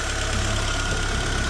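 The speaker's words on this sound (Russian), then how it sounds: "Вот двигатель завелся" An Audi 80 B4 with the 2.0 ABT engine idles steadily just after starting, a close, even, slightly knocking mechanical drone with no talk.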